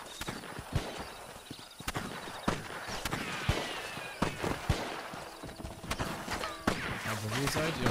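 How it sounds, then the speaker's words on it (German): Scattered gunshots crack out in Red Dead Redemption, sharp isolated bangs at irregular intervals amid horse hooves and ambient game noise, with voices talking over parts of it. "Ich höre auch schon wieder Leute hier rumschießen"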